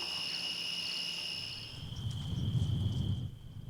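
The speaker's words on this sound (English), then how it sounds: "listen to the crickets" Crickets chirp in steady, high, continuous trills on an evening ranch porch, fairly faint and distant, while a low rumble of wind or handling noise swells near the end.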